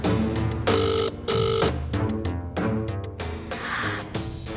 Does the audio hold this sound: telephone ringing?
yes